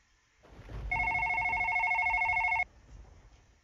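A telephone in the horror video game One Late Night rings once in a bright electronic trill lasting nearly two seconds, fairly close, over a low rumbling ambience.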